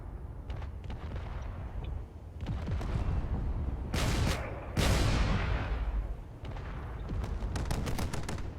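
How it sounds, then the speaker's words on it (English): Missiles slam into a Corvette in a drone space combat video game, a dense run of loud gunfire-like blasts and explosive impacts, with two sharp bright bursts in the middle and continuous rumbling firing throughout. "Those missiles are doing a fair amount of damage."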